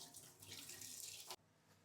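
Boiled dry ginger coffee (chukku kaappi) is poured through a strainer in a steady, splashing stream that stops abruptly near the end, leaving quiet.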